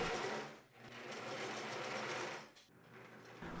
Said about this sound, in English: finish the sides of the jeans and the panels with a zigzag stitch